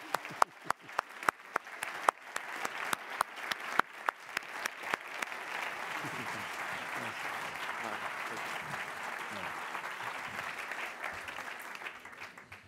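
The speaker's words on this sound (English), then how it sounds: "Ladies and gents, a round of applause for the three musketeers." An award ceremony audience breaks into loud applause, starting with sharp separate claps that quickly thicken into a dense, steady roar of clapping sustained to the end.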